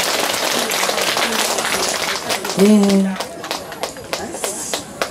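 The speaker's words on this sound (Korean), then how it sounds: "자, 박수 한번 쳐주세요" An audience claps at a Buddha's Birthday ceremony at a Korean Buddhist temple, a scattered patter of hands that runs throughout, with a brief spoken reply in the middle.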